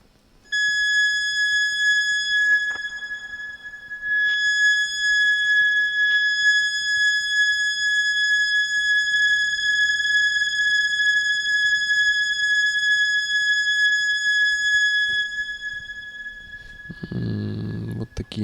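Soviet Elektronika EM-25 synthesizer with its filter squealing: a piercing, steady high-pitched tone sustained for about fifteen seconds, sitting loud and alone, then breaking off into a short burst of lower noise at the end.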